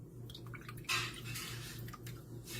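A few soft, scattered drips and splashes of water, then a brief quiet rush as a fish is set back into water, all faint and close by.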